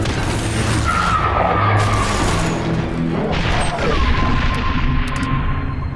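An artillery strike in The Bureau: XCOM Declassified, a continuous roaring wash of explosions and crashing debris that stays loud throughout, with brief sharper impacts standing out now and then.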